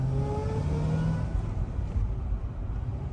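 A Corvette C6 ZR1's engine revs under hard throttle, a loud, steady, close roar with a rising tone that holds throughout before easing slightly toward the end.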